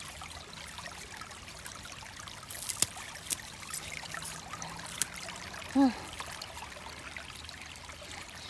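Mountain spring water trickles steadily through a watercress patch, a faint, even wash of flowing water punctuated by a few small drips and splashes, with a brief murmur from someone nearby.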